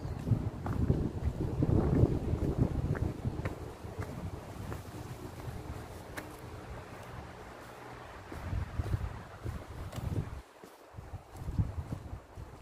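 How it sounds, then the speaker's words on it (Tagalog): Cold wind gusts through the woods, buffeting the microphone with a low, uneven rumble that swells and eases, stronger at the start and in bursts near the end. "Malamig, mahangin."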